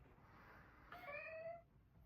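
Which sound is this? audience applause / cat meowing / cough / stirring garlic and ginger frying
cat meowing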